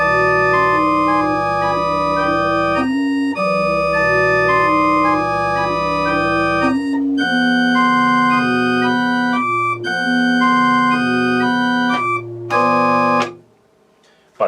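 A keyboard plays a Messiaen Hindu rhythm in its opening form, loud and close, with sustained chords and a busy middle texture of repeated short notes, breaking briefly between phrases before ending in a quick flourish.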